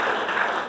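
Audience applause during a Rajasthan geography quiz event, a brief steady wash of many hands clapping together, even in level and close.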